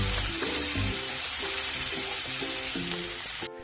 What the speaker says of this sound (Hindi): मेरा प्याज अच्छा से फ्राई हो,